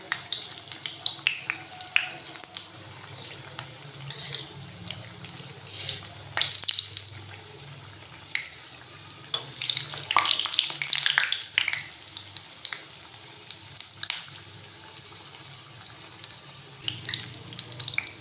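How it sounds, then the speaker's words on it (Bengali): Coconut fritters fry in hot oil in a wok, giving a steady crackling sizzle throughout with bursts of sharper spitting and a few soft clinks of utensils, close and moderately loud, with no talking. "আমি কড়ায় তেল বসিয়ে দিয়েছি, তেলটা আমার গরম হয়ে গেছে। আমি এরপর বড়ার আকারে ছোট ছোট করে দিয়ে ভেজে নেব।"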